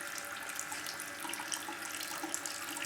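Separated spirits trickle steadily from a working reflux alcohol still, a continuous close hissing flow of liquid with no pauses.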